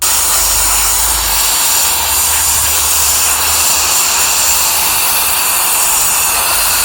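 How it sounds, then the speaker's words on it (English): A small handheld electric blower runs steadily and loud for the whole stretch, a constant high airy whoosh used to dry off an RC car, with no talk over it. "it's literally a little blower"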